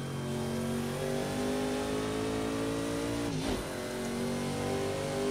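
A race car engine revs hard in Project Cars 2, a loud sustained whine with shifting pitch and a quick dip and recovery around a gear change, heard alone without talk.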